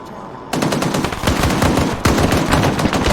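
Sustained automatic gunfire in the jungle setting of the military video game Arma 3, loud and continuous bursts starting abruptly after a brief quiet lead-in and overlapping into a dense fusillade.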